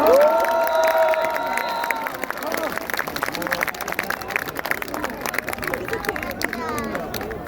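A large outdoor crowd at a campaign rally by a train station claps and cheers steadily for several seconds, a dense, continuous wash of applause and shouting with voices mixed in.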